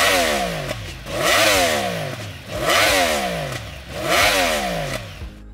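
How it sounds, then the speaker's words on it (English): A Yamaha YZF-R1M sport motorcycle engine with a lightened crankshaft is blipped hard four times, each sharp rev rising and falling quickly, loud and close with a clattery idle in between. "This is what the R1M sounds like."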